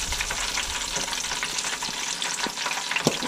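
Sheepshead fish roe frying in a pan, a bright steady hiss of hot oil that holds close and even for a few seconds, with a few light pops and crackles.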